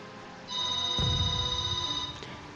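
A telephone rings in the background, a steady tonal electronic ring lasting about two seconds over quiet music.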